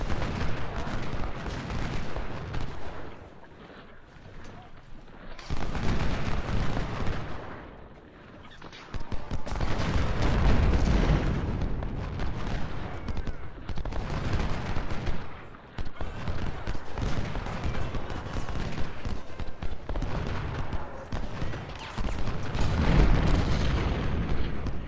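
Skirmishers' rifle fire from Ultimate General: Civil War rolls out in loud, dense bursts of crackling shots and booms, broken by several short lulls, with no talk over it.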